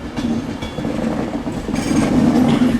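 Locomotive 39001 pulls away from Manchester Piccadilly toward London Euston, a loud, close rolling rumble with rhythmic wheel clatter and a rising tonal drone near the end.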